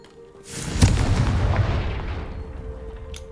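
Confringo spell explosion in Hogwarts Legacy, a single loud booming blast that swells quickly and rolls off into a long decaying rumble, with a faint pop near the end.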